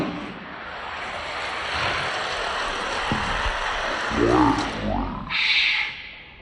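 Hot Wheels toy cars, a Lancer Evo and a Santa Jack, race down a track in a steady rolling whir that holds for several seconds, with a few louder swells and rattles near the finish.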